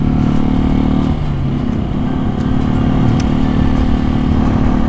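A 250 motorcycle engine while riding, running as a steady, loud, close drone with a fairly even pitch throughout and no voices.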